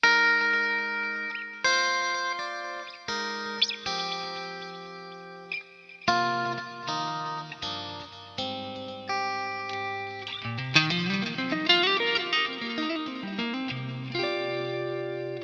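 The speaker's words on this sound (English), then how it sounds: "I've got the TC Electronic Stereo Chorus thing, which is one of the more well-known kind of chorus pedals" Clean electric guitar through a TC Electronic Stereo Chorus reissue pedal, with a shimmering chorus effect, picked chords and melodic lines with small pauses, played alone at moderate volume.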